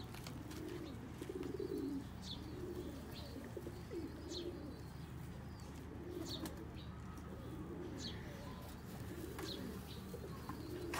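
Sialkoti pigeons coo in repeated soft, rolling phrases over a low steady hum, with faint chirps scattered between, the calls fairly quiet and without talking.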